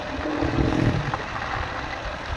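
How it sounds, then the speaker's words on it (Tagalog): A motorbike engine hums steadily near a river at night, swelling briefly as it passes by and then settling into a low, continuous drone with faint background noise. "Ayan, may motor."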